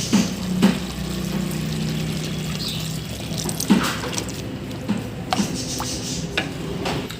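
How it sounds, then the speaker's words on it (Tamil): Water is poured into a clay pot of simmering tamarind base while making South Indian fish thokku, producing a steady liquid rush with scattered drips and splashes close by and no talking. "இப்போ நம்ம தண்ணி ஊற்றிக்கலாம்."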